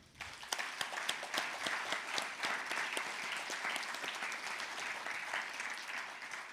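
An audience at a joint candidates' meeting in Rangárþing Eystra gives steady, moderately loud applause, many hands clapping together in a dense, even patter that holds throughout.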